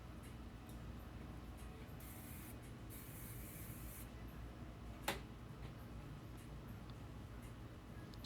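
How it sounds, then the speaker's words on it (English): Product spritzed onto hair during a silk press, two soft hissing spray bursts close by over a faint background, followed by a sharp click. "I'm going through and spraying her hair"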